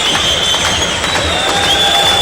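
Boxing arena crowd before a fight, a steady dense roar of murmuring voices and scattered calls that fills the hall at close, even loudness throughout.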